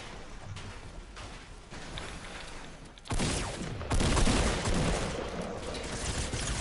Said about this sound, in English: he's shooting me on the floor